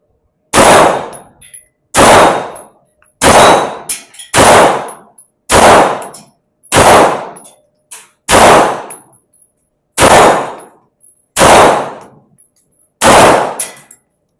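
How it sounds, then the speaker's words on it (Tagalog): Ten loud, sharp shots from a Springfield Armory gun crack out one at a time, about a second and a half apart, each dying away quickly into near silence. "Firing."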